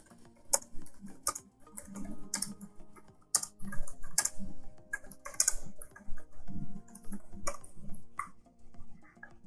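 A computer keyboard typing a comment, with irregular bursts of crisp close key clicks and short pauses between, alone with no voices.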